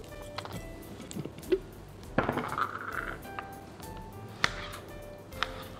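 A knife chops tomatoes on a board for eggplant fatteh, a handful of sharp clinks and taps spread unevenly over several seconds, close and fairly soft, with faint kitchen rattle between strikes.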